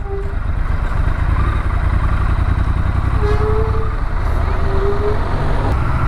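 A motorcycle rides through the streets of Rajgarh city, its engine a steady loud rumble with road noise throughout, and faint horn-like tones sounding briefly in the background.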